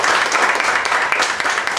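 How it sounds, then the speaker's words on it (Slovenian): Short, dense burst of audience applause at a talk on nutrition in trail and ultra running, steady clapping at a fairly loud level throughout. "Aplavz za Gregorja."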